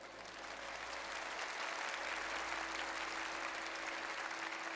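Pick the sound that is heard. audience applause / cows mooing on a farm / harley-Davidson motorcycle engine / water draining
audience applause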